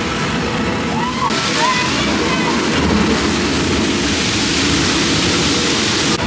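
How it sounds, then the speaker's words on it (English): Splashing, spitting water jets sweep across the ocean area of Moana Journey of Water at Epcot, a steady loud wash of spray and slosh with faint voices in the background. "They got spitting water going across."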